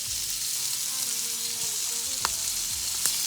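Shrimp laid into a hot pan of bacon fat, giving a steady, even sizzle of frying with a couple of faint clicks near the end; no talking.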